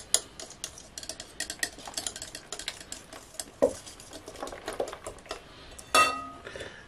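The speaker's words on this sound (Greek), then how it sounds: "Σε ένα μπολ θα βάλουμε 2 αυγά. 120 γραμμάρια ζάχαρη άχνη. Ανακατεύουμε λίγο." Two eggs and powdered sugar mixed in a bowl, a quick run of light ticking and clinking strokes of a utensil against the bowl, fairly quiet, ending with a brief louder clatter.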